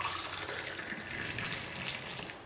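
Homemade masala tea is poured back and forth between vessels to cool and froth it, making a steady, faint, continuous splashing stream of liquid with no voices.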